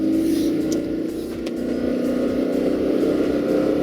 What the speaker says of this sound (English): So you're sitting there with the engine screaming